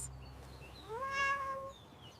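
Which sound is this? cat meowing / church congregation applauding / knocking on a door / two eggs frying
cat meowing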